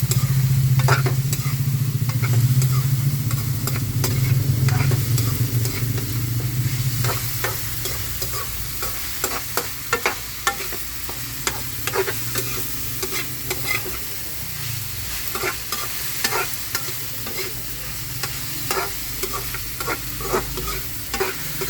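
Food fries and sizzles steadily in a pan while a utensil stirs it, its scrapes and clacks repeating at close range and growing more frequent after a louder motor-like hum fades early on.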